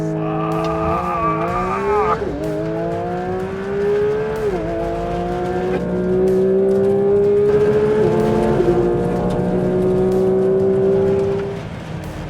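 A Porsche 911 GT3 RS launches hard under launch control on a runway, its engine screaming loudly and climbing in pitch through several quick gear changes, each marked by a brief dip before the revs rise again.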